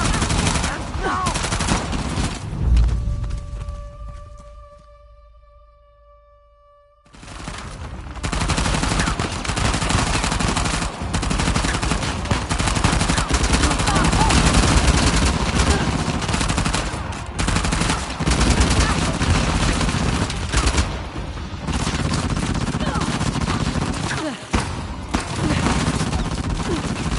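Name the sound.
gunfire in a shootout, from the video game Uncharted: The Lost Legacy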